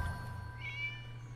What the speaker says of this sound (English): Oh, tiny kitten.